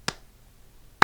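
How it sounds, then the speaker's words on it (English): Two sharp, isolated hand claps about a second apart, a deliberately slow clap in a quiet room, close and crisp with silence between. "The slow 80s clap."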